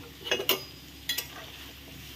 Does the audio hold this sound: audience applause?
no